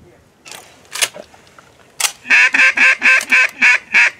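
Duck quacks during a duck hunt outdoors: a rapid run of about eight loud, evenly spaced quacks close by, after a few scattered noises and brief sounds.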